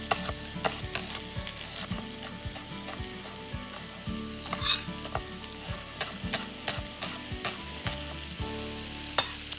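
Shallot sautéing in oil and butter in a pan alongside seared salmon, a constant crackling sizzle punctuated by regular sharp spatula knocks and scrapes against the pan, close and fairly loud with no talk.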